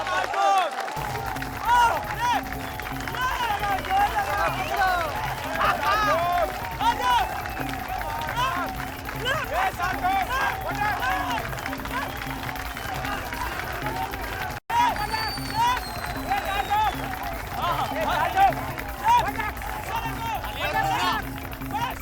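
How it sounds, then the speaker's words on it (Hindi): Crowd applause and cheering at a village wrestling semifinal between two wrestlers, a steady wash of clapping with hubbub and busy background mix throughout. "चलिए ताली बजाइए।"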